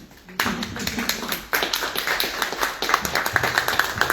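An audience breaks into applause, and a burst of dense, steady clapping from a small crowd continues for several seconds.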